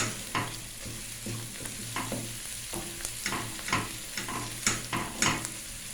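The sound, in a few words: onions being stir-fried in a pan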